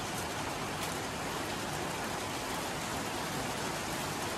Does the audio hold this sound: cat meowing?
no